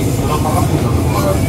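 Steady low rumble inside a KRL commuter line train in Jabodetabek, a continuous ride drone of wheels and cabin hum with no clear individual events.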